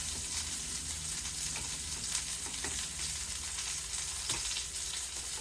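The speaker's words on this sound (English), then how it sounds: "we're going to go ahead and get our sauerkraut in the" Sauerkraut sizzles steadily in a frying pan for pork loin with caraway, a dense continuous hiss with a few soft clicks of stirring, close and even throughout with no talking.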